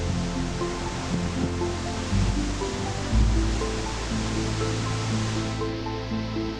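Waterfall in northern Iceland roaring in a steady, full wash of falling water, close and continuous, with a few low rumbling surges and no voices.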